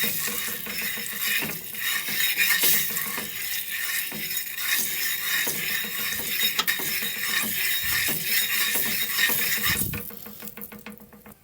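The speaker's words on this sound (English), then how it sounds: "Stir it, let it burn." Curry being stirred in a cooking pot while it catches and burns, for Jamaican curry rice: steady broad sizzle and crackle with scraping, clattering stir strokes throughout, fading near the end, no talk.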